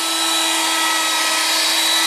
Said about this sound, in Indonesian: Kemudian kita matikan mixer.